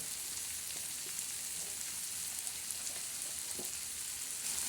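Crushed ginger, garlic, cumin, tomato and red chili sizzle softly in a pan for a spicy bitter gourd dish, a faint but steady frying hiss with occasional small pops and no voices.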